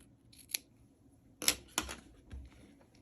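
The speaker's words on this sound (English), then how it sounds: "I'm going to cut off this little bit extra there." Scissors snip off leftover material from an in-the-hoop embroidered key cover, a few sharp close cuts at irregular intervals in a quiet room with no talking.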